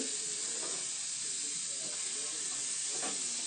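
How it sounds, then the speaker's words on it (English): Beef chow mein with celery and onion sizzles steadily in a hot pan, a constant bright frying hiss with faint scrapes as the vegetables are stirred, close and continuous. "Now at this point we need to give that a bit of a stir."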